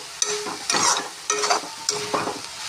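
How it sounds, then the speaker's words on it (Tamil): Tomatoes sautéing in a pan, stirred in four distinct sweeps that bring bursts of close, crackling sizzle and scraping between quieter moments, with no voices. "இன்னும் ஒரு 2 தக்காளி போட்டுக்கிறோம்மா. நல்லா வதங்கட்டும்."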